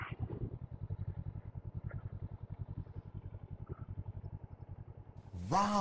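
Motorcycle engine running steadily at low revs with a rapid, even pulse, fairly quiet and close, while a learner rides on a practice plateau; a voice breaks in loudly at the very end.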